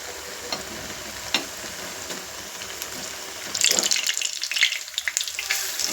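Aloo bondas deep-frying in hot oil and being turned over, a steady close sizzle with brief scraping clinks that swells louder and busier in the second half as the fritters are flipped.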